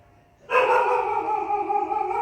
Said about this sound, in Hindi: अब कुत्ता भौंक रहा बाहर।